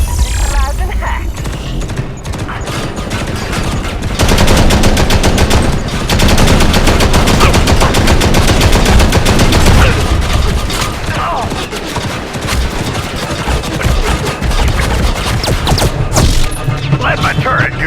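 Automatic turret fire in the Modern Combat Versus game, loud sustained bursts of rapid gunshots and booms layered with game effects and in-game voice lines, nearly continuous.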